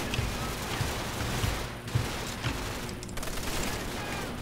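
Gunfire in a Call of Duty custom zombies map, a dense, steady fusillade of rapid shots and rattling bursts filling the space without pause.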